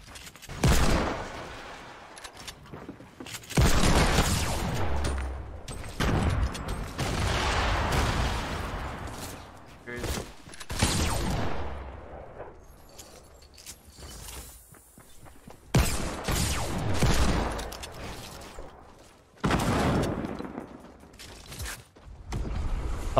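Gunfire and sniper shots crack out in Fortnite creative mode, coming as loud sharp bursts and separate single blasts spread over the stretch, with mechanical game clatter in between and no talking.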